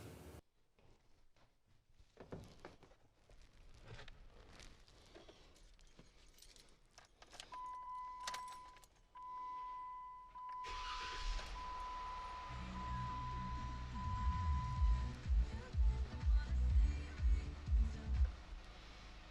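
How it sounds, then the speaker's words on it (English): A car is started after an oil change. Keys jangle and a dashboard chime sounds first, then the engine turns over and settles into a rumbling idle that continues to the end. "Because then I'm going to start the car"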